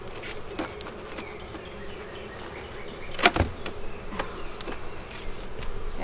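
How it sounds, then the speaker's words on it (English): Honeybees buzz thickly around an open beehive during an inspection, a close, continuous hum with individual bees zipping past the microphone and a sharp knock or tap midway. "There is a gob of bees right there."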